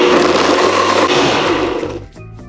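A countertop blender whirs loud and steady, crushing ice for a cold basil-lime cooler, with the motor pitch shifting slightly before it winds down near the end.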